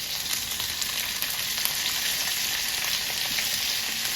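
Onions tossed into a hot pan with broccolini stalks sizzle loudly and steadily, a dense continuous frying hiss heard close with faint stirring scrapes and no talk.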